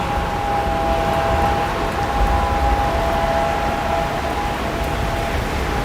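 A truck out in a Georgia thunderstorm gives off a thin, steady siren-like whine that rises and wavers above a dense roar of heavy rain, with no talking.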